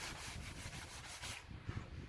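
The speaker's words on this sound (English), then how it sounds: "every time you run sandpaper over it, you're reducing it in draw weight a little bit" Sandpaper is rubbed back and forth over a wooden bow being prepared for final tillering. The raspy strokes come close and steady in a quick rhythm, then ease off near the end, with no voice.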